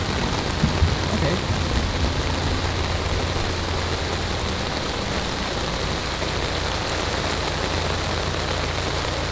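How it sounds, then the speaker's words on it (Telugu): Heavy rain pours down without a break, a dense and loud hiss that stays steady from start to finish. "సరే ఈ వర్షం ఆగేలా లేదు"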